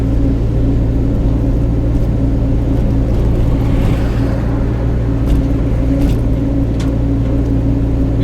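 Truck engine droning steadily from inside the cab while driving on the road, a continuous low rumble with no break and no talk.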